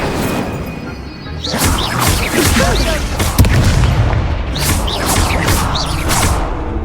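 The Incendio fire spell from Hogwarts Legacy erupts amid in-game combat, heavy booms and crashing impacts piling up loudly over several seconds, with a voice faintly mixed in.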